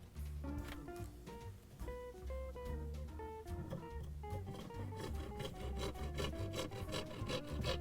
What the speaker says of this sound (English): This wax is super easy to cut. No resistance.